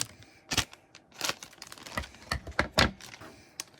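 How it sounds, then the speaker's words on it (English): Sharp plastic crackles and snaps come in quick bursts up close as a Boss Nass squirter toy from a 1999 KFC Naboo promotion is pulled free of its plastic packaging. "We're going to free him from that plastic."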